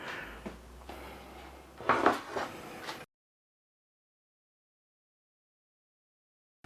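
A tray of spare ribs slides into a home oven with a short metallic scrape and a door-like knock, a couple of brief clattering bumps over about three seconds before everything goes silent.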